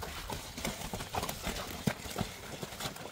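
A herd of horses that includes a stallion, with steady hoof clip-clops and shuffling close by and scattered movement throughout.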